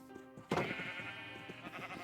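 A sheep bleats in a Minecraft game, one sustained wavering call starting abruptly after a quiet moment, with faint game sounds in the background.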